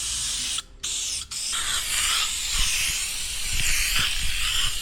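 Spray adhesive hissing in a continuous loud burst, briefly paused twice, then steady again, laid on thickly before sticking carpet down on a tinnie boat's front deck.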